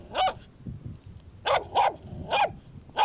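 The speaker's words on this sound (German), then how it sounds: "aber der Yuri ist einfach nur ein Kleffer" A dog barks in short sharp bursts: one bark, a pause, then a quick run of three more close together, loud and nearby.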